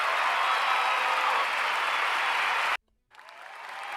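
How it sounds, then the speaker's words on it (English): Applause from a studio audience honoring a guest on a live talk show, a dense steady roar of clapping that cuts off abruptly near the end, then resumes more quietly after a brief silence. "we need to give Dan a huge round of applause for being an incredible guest."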